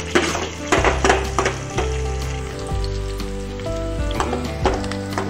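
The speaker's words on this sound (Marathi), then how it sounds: "कांदा टाकून आता आपण कांदा लाल होईपर्यंत परतून घेऊ।" Onions fry in a pan until reddish-brown, sizzling under the steady hum of a nearby appliance. Several sharp clatters and stirring knocks cut through the crackle, and no one speaks.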